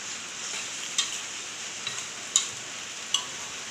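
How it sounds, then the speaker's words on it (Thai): Shrimp stir-fry over high heat in a wok in a home kitchen, with a steady sizzle and a few sharp clicks of a utensil against the pan. "ใส่กุ้ง เปิดไฟมันแรงหน่อย"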